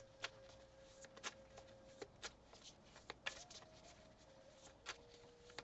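Oracle cards shuffled in a series of faint, quick papery riffles and taps, scattered irregularly over a quiet background with a soft tonal hum.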